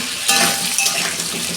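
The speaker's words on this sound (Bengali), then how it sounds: "তখন পটলটা ভাজা হোক" Pointed gourd and potato pieces frying in a pan with a little salt, a loud close sizzle with brief stirring clatters of a utensil against the pan over under two seconds.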